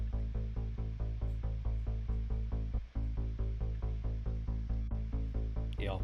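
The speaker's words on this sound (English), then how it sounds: "The ARP is just at eighth notes" Pulsing ARP bass patch built in Serum from warped wavetables, repeating steady eighth notes with a thick, buzzy tone, with a brief break near the middle and no voices.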